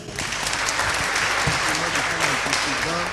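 Sustained audience applause for a contestant at a French spelling championship, a dense steady wash of clapping throughout with some voices mixed in underneath.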